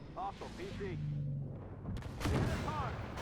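Tank taking a hit from BMP gunfire in the video game Armored Warfare, a heavy booming impact with rumbling aftermath in a short burst, with someone talking over the battle noise.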